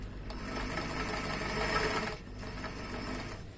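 HandiQuilter Moxie XL quilting machine stitching a seam on a fabric quilted box, a steady fast mechanical whir that runs loud and alone for about two seconds, then drops slightly and carries on more quietly.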